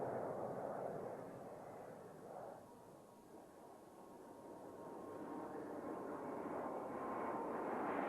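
A Soviet-designed MiG-15 jet built under license in Poland roars past at an air show, a distant broad rumble that swells, dips around the middle and builds again.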